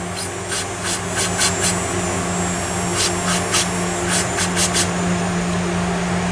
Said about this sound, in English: you can kind of shoot carb spray into these little passageways